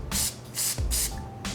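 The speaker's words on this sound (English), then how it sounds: "Now we took the Super 77 spray adhesive" Super 77 spray adhesive misted from an aerosol can onto foam puppet pieces: four short, loud hissing bursts with brief pauses between, close up and without talk.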